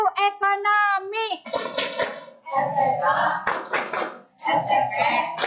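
A class of children chanting and clapping in rhythm during an economics lesson, with bursts of sung call-and-response voices and hand claps, loud and close.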